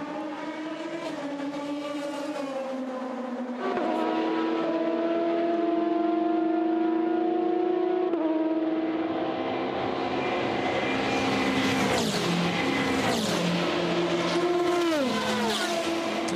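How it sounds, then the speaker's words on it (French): Race cars at night during the 2020 24 Hours of Le Mans, a loud sustained engine drone with rising and falling pitch as cars pass, layered engines overlapping. "Julien Piguet avec la Porsche Project One numéro 89 est en 45e position."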